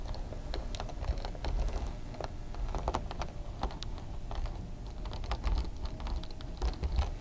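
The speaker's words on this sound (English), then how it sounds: "When you hear the clicking sound, that will confirm you are snapping and locking in the zipper backing into the T-slot groove correctly." Zipper pile weatherstrip backing snapped into a T-slot groove on old windows and doors, heard as a steady run of light, close clicks and taps over several seconds, with no talking.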